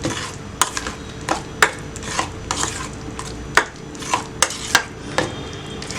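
Spoon stirring fruit yogurt in a bowl, a series of sharp clinks and scrapes against the bowl at an irregular rhythm, close and fairly quiet, with no talking.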